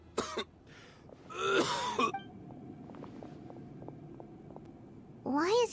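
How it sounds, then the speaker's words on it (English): A character in a Genshin Impact cutscene coughs and clears his throat in harsh bursts close to the mic. Short spoken lines from the cutscene and quiet background music fill the gaps between coughs. "Why is he coughing so much?"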